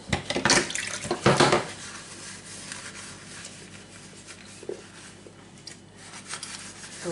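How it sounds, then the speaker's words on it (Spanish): Kitchen utensils scrubbed and rinsed under a running tap, with a louder splashing, clattering stretch early on that eases into a steady, softer flow of water. "ahora ya lo que hago es todos los cacharritos, los tengo ahí para lavar, incluido este"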